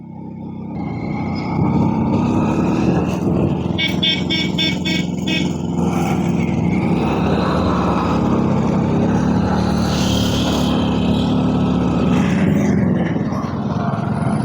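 Car engine straining and overheating on a steep climb up to a hilltop temple, a long continuous laboring drone with wind noise, steady and fairly close throughout, with no speech.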